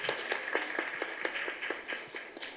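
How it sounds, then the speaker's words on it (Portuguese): Applause at a seminar on foster-family care, a steady run of fairly quick, evenly spaced claps from what sounds like a small group, continuing for a few seconds without voices over it. "Salva de palmas."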